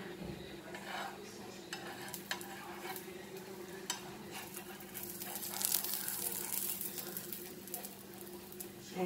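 A potato-stuffed aloo paratha fries in ghee on a griddle, a continuous low sizzle over a steady hum, with light clinks and scrapes of a utensil and a brief louder burst of frying midway.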